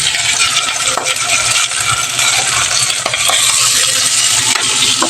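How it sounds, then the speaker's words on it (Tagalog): Steady, dense sizzling of chicken and fishballs frying in hot oil, close and loud, with a few clinks and stirring sounds over the crackle. "Prito ko lang yung 4 na manok natin, saka fishball."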